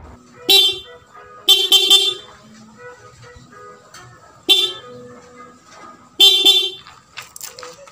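A stuck PIAA dual-contact motorcycle horn on a Sniper 150 honks four times, each short and loud, with quiet pauses between the blasts.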